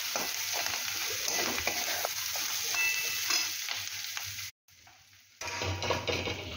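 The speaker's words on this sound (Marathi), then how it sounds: "आता हेही आपण या कांद्यासोबत फ्राय करून घेऊया" Chopped onion, grated ginger and garlic cloves frying in a pan with steady close sizzling and occasional stirring, the sound dropping out briefly before resuming as strongly.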